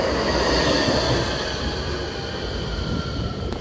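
Class 66 diesel locomotive pulls away hauling a rake of tanker wagons, a loud steady rumble of engine and rolling wheels close by that eases slightly over a few seconds.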